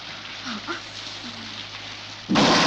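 Steady rain hisses throughout a scene from a 2009 Indonesian horror film, with faint low murmurs early on, then a loud broadband roar surges in near the end like a close thunderclap or heavy downpour burst.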